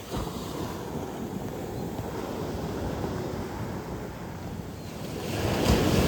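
Ocean surf washes steadily onto a beach during a turtle hatchling release, a continuous broadband rush mixed with wind buffeting the microphone. It swells slightly toward the end, with no voices.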